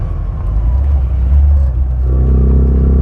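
A 1997 classic Mini Cooper engine drones loud and steady from inside while driving at low speed, with a whining gearbox and a deep rumble throughout.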